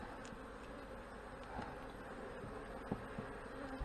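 Honey bees buzz steadily at an opened hive during a first inspection in over seven weeks, a dense low hum with a few sharper close passes and no talk.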